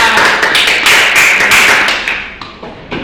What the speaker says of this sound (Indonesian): Beri tepuk tangan buat Sekila.